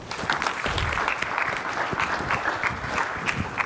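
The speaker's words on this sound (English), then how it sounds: "A big round of applause for Jay, please" An audience gives a round of applause to a speaker at a talk on building a community brand; moderate, continuous clapping from a mid-sized crowd, steady and fairly near, with no talk over it.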